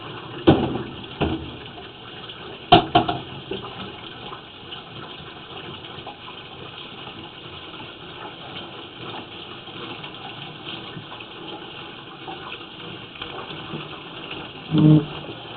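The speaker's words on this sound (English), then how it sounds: "can you turn that faucet on there for me for just a second?" Water gushes steadily from a faucet, a continuous rushing flow with a few knocks and clatters, fairly close.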